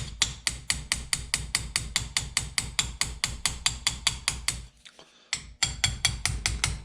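A hammer taps repeatedly on metal to free stuck rings, sharp evenly spaced strikes at a quick steady rhythm, close and distinct, pausing briefly before a few more blows resume.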